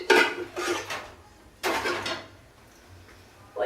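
A large frying pan lifted and set down in a home kitchen, a few loud metallic clanks and scrapes close by, separated by short pauses.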